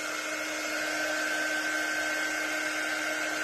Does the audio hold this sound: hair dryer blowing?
yes